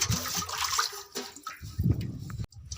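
Pots of water are tipped into the basin around a neem tree on a village farm, giving nearby gushing splashes in uneven bursts with short pauses between pours.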